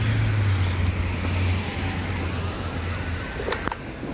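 Steady heavy rain during a thunderstorm in Mildura, a dense hiss of falling drops with passing traffic rumble underneath and a low engine hum, continuous and close.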